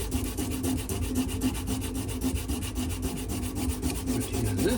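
A dark wooden knife handle is sanded by hand with quick, even back-and-forth strokes that make a steady, close rasping scratch.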